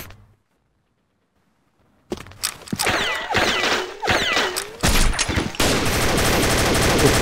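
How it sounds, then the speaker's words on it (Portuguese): Gunfire in the video game Combat Arms starts after two seconds of near-silence, with rapid bursts and single shots cracking loudly, then settles into continuous automatic fire to the end. "eu não acerto o tiro no Neo"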